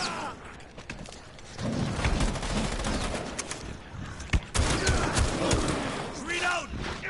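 Rapid bursts of gunfire in the Rainbow Six Siege Outbreak mode 'The Legion' crackle through a busy mix of shots and impacts, with a brief loud crack near the middle.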